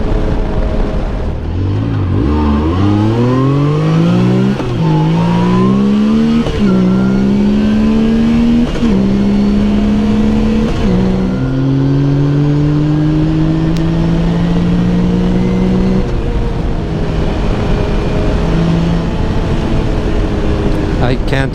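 Yamaha YXZ 1000 R side-by-side engine running while driving, loud and close, revving up and shifting through gears in repeated rising sweeps, with a steady drone throughout and no talk.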